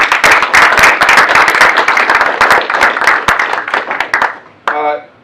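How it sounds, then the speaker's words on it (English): Applause for the protocol staff at a military change of command ceremony: dense hand clapping from an audience, loud and sustained, tapering off near the end before a brief voice cuts in. "A round of applause for them all, please."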